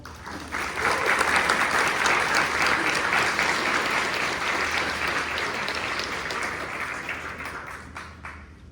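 Audience at a teacher preparation pinning ceremony breaking into sustained applause, a thick wash of clapping that swells quickly, holds loud, and slowly tapers off.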